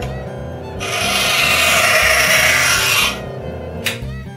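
A steel card scraper is filed along its edge to raise a sharp burr, giving a close, loud rasping stroke of about two seconds, followed by a short scrape near the end over a low background hum.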